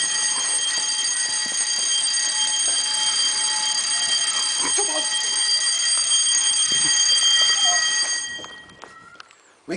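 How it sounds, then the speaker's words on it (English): An electronic alarm rings steadily, a high multi-toned continuous tone with faint background clatter, before cutting off near the end, leaving quiet. "Alarm, come on."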